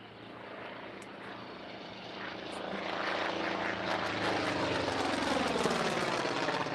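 A propeller-driven Skyraider flies past at an airshow, its engine drone swelling steadily from moderate to loud and holding as it passes, with a rising-and-falling pitch sweep.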